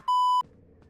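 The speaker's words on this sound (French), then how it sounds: "Le téléphone il sonne encore." A single short electronic telephone-style beep in the FNAF Into The Pit video game, clear and loud, followed by a quiet low rumble.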